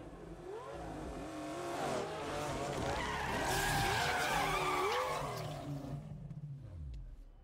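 Tyres screech in a long skid under a roaring, revving engine in the racing game Need for Speed Unbound, loud and close. The pitch sweeps up and down across the whole run, then the engine note drops away near the end.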